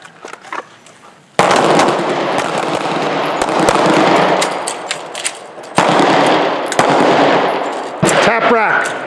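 Handgun fire on a defensive handgun drill range, a dense run of sharp overlapping shots and bursts, loud and close, with brief gaps between volleys and no talk.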